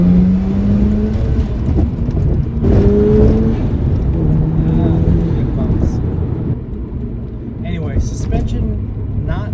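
A Mazda RX7 pulls hard with a loud, rising engine roar that climbs through the revs and shifts, with a person talking over the engine noise.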